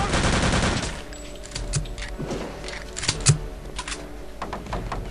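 Loud rapid automatic gunfire in the video game Return to Castle Wolfenstein, one long burst at the start followed by scattered shorter shots and clatter at mid-distance.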